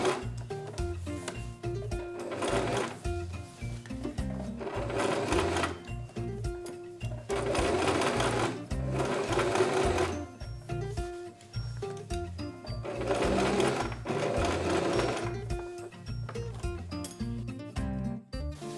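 A sewing machine stitches the edge of a vampire costume of velvet and poplin, running in repeated bursts of rapid mechanical whirring with brief slowdowns between, close and steady.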